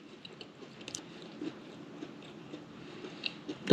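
Someone bites into and chews a fried coconut cream pie with a flaky crust, producing close, soft crunchy chews at a steady rhythm with a louder crunch near the end.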